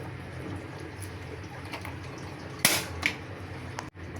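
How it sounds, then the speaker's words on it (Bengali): A gas stove is lit in a home kitchen while beef curry is being cooked: two sharp, quick igniter clicks snap out over a low steady background hum. "চুলা জ্বালায় দিলাম"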